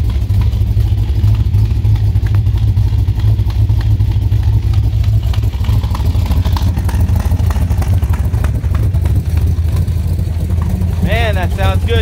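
A restored 1965 Chevrolet Corvette roadster with a 427 V8 rated at 425 hp runs steadily, its deep low rumble constant and fairly loud, with people talking over it and a brief chirpy sound near the end.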